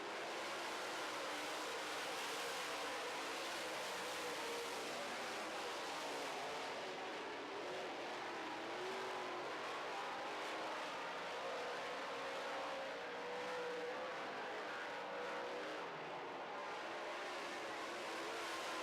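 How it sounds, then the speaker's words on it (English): Late model race cars running a heat race on an oval track, a steady far-off engine roar sustained throughout with no talk over it. "Rick Fawcett now putting the moves on Paul Veert."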